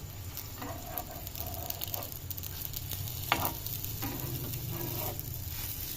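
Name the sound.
potato tikki cutlets frying in a pan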